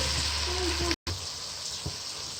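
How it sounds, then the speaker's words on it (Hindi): Garlic ginger paste frying in a pan for Lahori chole, a steady close hiss and sizzle with a brief cut in the middle, a faint voice murmuring underneath. "लहसुन अदरक का पेस्ट डालती हूँ, इसको भी 3-4 मिनट तक फ्राई करती हूँ"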